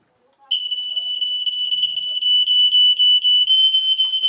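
Smoke detector alarm sounding a steady, loud, piercing high tone that starts abruptly and continues unbroken to the end, with no voices heard.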